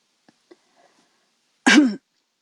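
A single short, sharp cough sounds once after a few faint clicks, close and clear against near silence.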